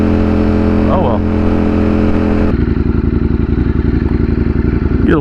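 A Ducati Streetfighter V4 motorcycle engine runs at high RPM, a loud, steady close-up drone that shifts partway through into a rougher, pulsing beat as the revs change, with no talking.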